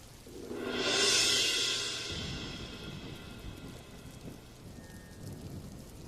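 A thunderstorm sounds for an audio drama: a loud crack of thunder swells and rumbles away over a couple of seconds, then steady heavy rain keeps hissing alone.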